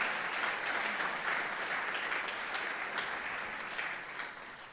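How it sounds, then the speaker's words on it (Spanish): A church congregation applauds steadily during a sermon, a dense, even wash of clapping held at a moderate distance for the whole stretch, fading slightly toward the end. "Si le vas a dar un aplauso, hazlo para el Señor."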